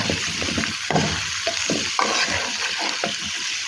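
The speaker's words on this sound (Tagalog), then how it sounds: "Hinalo ko lang yung gabi at saka kalbasa para sabay sila maluto" Taro and squash pieces being stirred in a cooking pan, with repeated scraping strokes against a steady sizzle of frying, close and fairly loud, with no talking.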